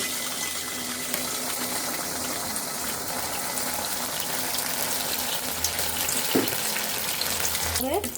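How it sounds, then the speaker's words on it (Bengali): Fritters of leftover-rice batter fry in oil in a wok, a dense, steady hiss of bubbling oil running throughout, with a few brief knocks near the end. "এখন আমরা তেলে ভেজে নিব।"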